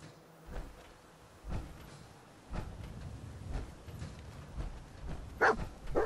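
A dog companion in Fallout 4 barks a few times at spaced intervals, soft and somewhat distant against a low rumbling game background, with no speech.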